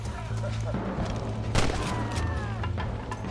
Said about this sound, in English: Oh, did I shoot my horse?